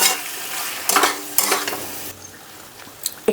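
Baby corn sizzles in a kadai as a cornflour-and-water slurry is stirred in, with loud frying hiss and bursts of spatula scraping that settle into a quieter simmer near the end.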